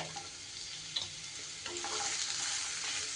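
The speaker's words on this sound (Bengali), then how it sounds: "তেলটা বেশ গরম হয়ে গেলে এইবার আমি এখানে দিয়ে দিচ্ছি একটা মাঝারি সাইজে কেটে ধুয়ে রাখা আলু।" Thin, washed potato strips frying in hot mustard oil, a continuous close sizzle with a few soft spatula scrapes and taps, no voices.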